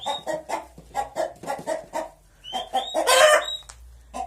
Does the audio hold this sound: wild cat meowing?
no